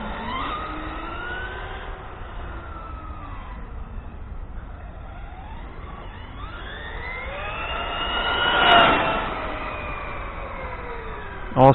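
Axial Yeti XL RC car with a Leopard 1450kV brushless motor running on 6S, giving a steady electric whine that rises and falls in pitch with speed and peaks loudly as it passes near, with no talk.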